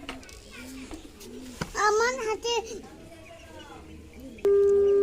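Fancy pigeons in a backyard coop give soft, low cooing calls while a voice and other speech carry over them, with a sharp tonal beep near the end.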